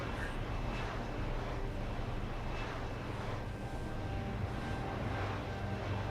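A futuristic aircraft, neither quite helicopter nor plane, flies in Deus Ex: Human Revolution, giving a steady, loud engine drone with a low rumble and airy wash that continues throughout.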